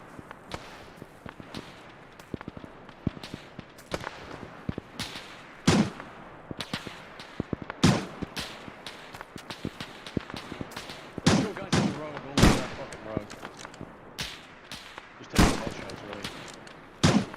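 Gunfire in a large multiplayer Arma battle around a trench, with many sharp rifle cracks at uneven intervals over the whole stretch, some loud and near and others farther off, while players talk over radio.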